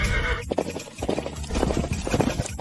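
A horse gives a short whinny, then its hooves clip-clop in a quick, steady rhythm during a riding class. The sound is close and fairly loud.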